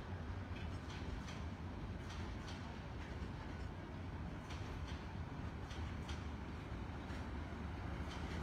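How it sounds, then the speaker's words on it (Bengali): A train pulling into Kamalapur railway station in Dhaka: a steady, loud rumble of rolling stock with faint rhythmic rail clicks throughout, no voices. "এখানে একটি ট্রেন এই মুহূর্তে কমলাপুর রেল স্টেশনে এসেছে"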